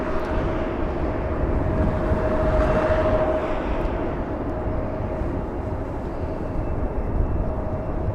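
EVA Air Boeing 777 arriving from Taiwan at Los Angeles, a steady distant jet roar with a sustained engine tone, swelling slightly then holding level, with no voices.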